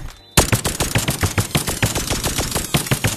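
Rapid, evenly paced pistol fire in the VR game Bonelab: a loud close string of about fifteen sharp shots fired nonstop after a short quiet lead-in.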